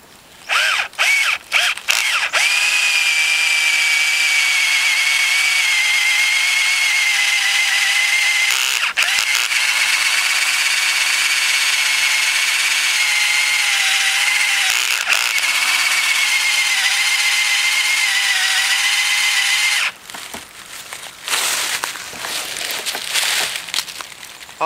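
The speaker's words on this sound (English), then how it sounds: "You want to make sure that you drill up." A power drill whines steadily and loudly for about twenty seconds, boring upward into a birch tree, its pitch shifting slightly, then stops with a few rustling handling sounds.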